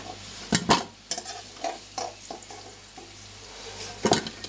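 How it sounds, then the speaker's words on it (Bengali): Taro pieces fry in hot oil in a pan, a steady sizzle broken by several sharp scrapes and clinks of a utensil stirring and lifting them out. "এখন আমি কচুগুলো ভাজা হয়ে গেছে তুলে নেবো এক এক করে।"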